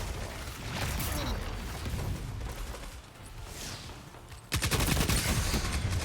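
Rapid gunfire from an online shooter video game, heard as dense bursts of repeated shots, close and loud, ending in a fast, evenly spaced automatic volley.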